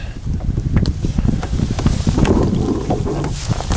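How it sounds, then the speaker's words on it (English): Wind buffets the microphone on open water from a fishing kayak, a rough continuous rush and flutter with small splashes and knocks. "today, got a little bit of a wind, but it's not bad"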